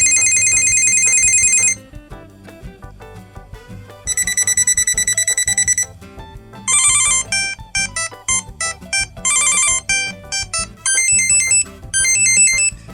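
A Samsung Galaxy SmartTag plays a series of ringtone options one after another, each a short repeating melody of bright beeps, loud and close, with brief gaps between options.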